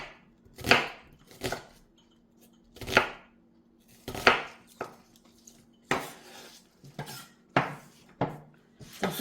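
A kitchen knife slices tofu thinly for tofu kimchi, roughly ten crisp, separate strikes on a cutting board at an uneven, unhurried rhythm, close and clear with quiet gaps between cuts and no talking.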